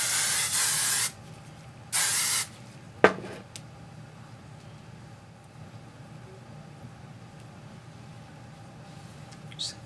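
Two short hissing bursts of hairspray, the first about a second long and the second briefer, followed by a faint tap and near silence.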